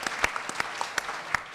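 An audience at NYU claps for a First Monday in October event, brief scattered applause with distinct individual claps, fairly quiet and alone.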